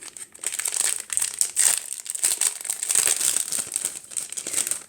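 Paper crinkled and rustled close up while purchases are unwrapped, with bursts of crisp crackling and crumpling that come and go in uneven handling motions over several seconds, with no voices.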